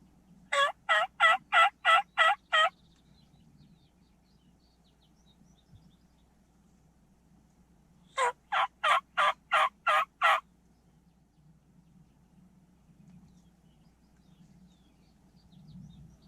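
Wild turkeys gobble in Colorado: two clear bursts of rapid, rattling gobbles, each about two seconds long and several seconds apart, over a quiet outdoor background.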